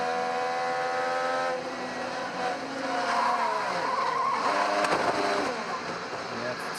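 An IndyCar at the Music City Grand Prix, heard from onboard during the race, with its engine revving and shifting pitch close up while tires squeal and skid through a corner, under a commentator's talk.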